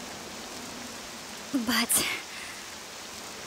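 Poison rain in the video game Octopath Traveler 2 falls as a steady, even hiss, and a short spoken word cuts in briefly midway.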